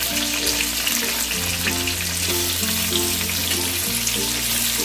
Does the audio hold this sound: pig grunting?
no